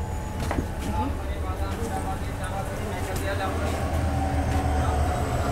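A freight train rolling into Jirania station on the Agartala to Silchar line, heard as a low continuous rumble with faint metallic clanks and squeals, steady and moderately loud throughout.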